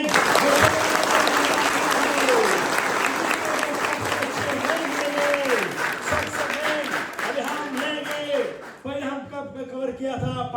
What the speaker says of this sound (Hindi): टीचर के वास्ते हम जोरदार तालियां करेंगे।